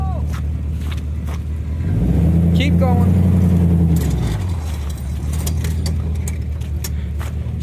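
Chevy rolling slowly with a rhythmic scraping noise from a tire, a low engine hum that swells for a couple of seconds and then fades, with a brief word spoken over it.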